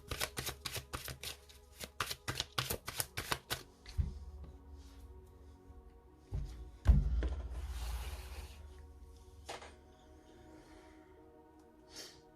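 A deck of tarot cards riffled and shuffled close by: a quick burst of crisp flutters, then slower rubbing and handling sounds with a bump and a soft fading rustle.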